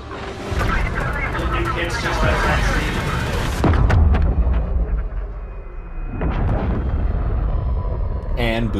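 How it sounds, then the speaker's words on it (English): A nuclear explosion in the video game Call of Duty Modern Warfare, set in Verdansk, erupts as a heavy, booming rumble amid dense game noise, swelling to a deep blast midway before settling into quieter rumbling with a voice talking over it. "They could have made that explosion a lot more."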